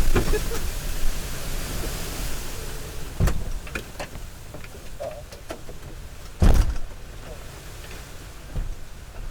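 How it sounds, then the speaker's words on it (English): A van door closes with one solid thump partway through, set against a low steady rumble with a few lighter knocks and clicks around it. "Alright, close the door."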